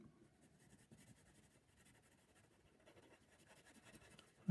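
A pencil scratches a shaky, wavering line across paper in soft continuous strokes, faint and close, with no talking.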